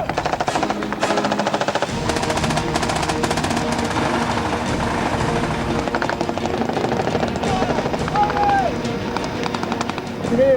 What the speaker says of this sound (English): The gunboats swing round to maintain their non-stop barrage of bullets.